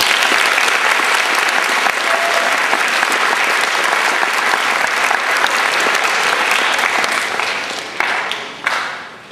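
Sustained applause from an audience at a high school award presentation, steady and loud throughout, with individual claps becoming distinct as it tapers near the end.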